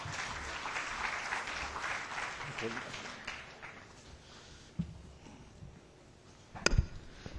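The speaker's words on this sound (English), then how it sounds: "Please give him a very big round of applause." An audience at an accountancy institute's golden jubilee conference in Pakistan applauds a speaker, with a dense burst of clapping that thins and fades after a few seconds, followed by quieter room noise and a sharp knock near the end.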